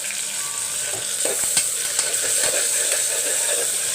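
A single tomato goes into a pan of frying vegetables for a white peas kurma and is stirred, steady sizzling running throughout with scraping spoon strokes and soft clacks against the pan, close and moderately loud, no voices.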